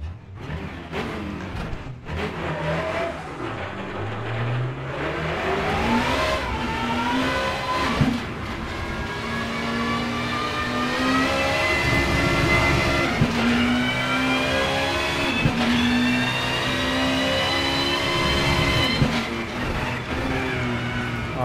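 Peugeot 406 BTTC race car engine starting up and revving, loud and close, with rising and falling engine tones sweeping up repeatedly before settling into a sustained high idle over about twenty seconds.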